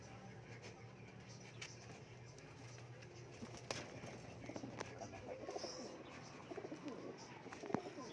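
Pigeons kept as breeders coo softly in a quiet setting, making low, rolling calls that repeat irregularly. Faint chirps and light rustling sit over a steady low background hum.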